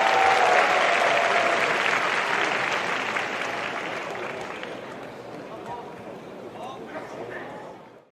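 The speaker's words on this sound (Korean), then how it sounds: "여러분 큰 박수로 환영해 주세요" Loud crowd applause and cheering welcoming a soldiers' talent show team at a Hongcheon military day performance, strongest at the start and gradually tapering off before cutting out.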